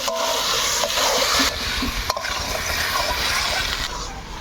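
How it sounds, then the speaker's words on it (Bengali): Garlic being stirred and fried with spices in a pan, a continuous close sizzle broken by a few scraping stirs and clacks of the spoon, with no talking. "মশলাগুলার সঙ্গে রসুনটা ভালোভাবে নাড়ি চাড়ি নিব"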